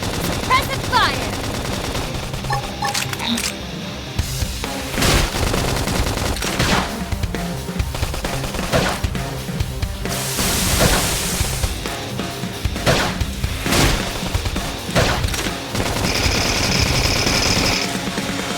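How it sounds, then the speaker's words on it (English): Sustained gunfire in the video game Xenoblade Chronicles X: loud rapid bursts of shots and explosions over a long battle, mixed with game music and character voices calling out. "Lay down some fire. I'll blast a hole right through him."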